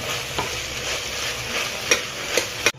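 Spice powder is stirred into vegetable pulao in a pan, giving a steady scraping, mixing sound over a soft sizzle with a few sharper spoon knocks near the end.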